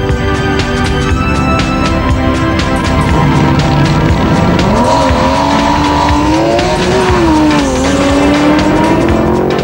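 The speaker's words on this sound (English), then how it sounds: "The only semi-final run then was the one between the yellow BMW of Johan Minnaar and the red AC Cobra of Peter Zili." A yellow BMW and a red AC Cobra drag racing at Tarlton Raceway in South Africa: a loud, sustained engine roar from close by, with a rising whine as the cars accelerate hard down the strip.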